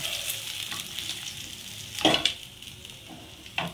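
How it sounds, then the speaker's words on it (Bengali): Fish pieces fry in hot oil in a pan: a continuous close sizzle with a couple of louder bursts of spatter and clatter from stirring or lifting, and no talking. "এইভাবে অপর মাছগুলো আমি ভেজে নেব"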